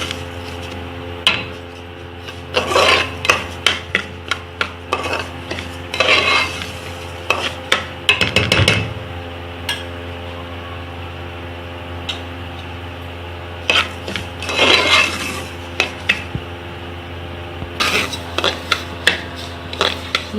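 A spoon scrapes and stirs cracked wheat daliya as it dry-roasts in a pan over a medium flame, in irregular bursts of close scraping and clinking against the metal with quieter gaps and a steady low background hum.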